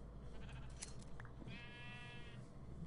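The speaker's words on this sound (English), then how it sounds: "You stupid sheep." Sheep in a video game bleat briefly and faintly, one wavering bleat standing out over a low, steady background hum.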